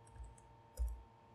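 Two soft, close keystrokes on a computer keyboard while code is entered, separated by a short pause in a quiet room.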